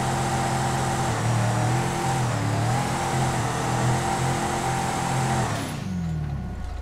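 A modified Mahindra Bolero in the GTA 5 driving game revs loud and close, its engine droning steadily with small pitch swings before dropping off sharply at the end.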